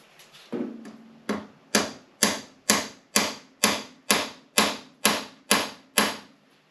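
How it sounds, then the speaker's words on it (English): Small bolt extractor gently hammered into a seized bolt hole on a Honda VFR800 motorcycle, about a dozen sharp metallic taps in a steady, evenly spaced rhythm, close and clear with no talking. "So I'm just going to gently tap a little bolt extractor in that hole."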